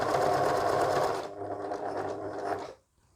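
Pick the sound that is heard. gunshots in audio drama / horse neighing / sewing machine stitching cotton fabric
sewing machine stitching cotton fabric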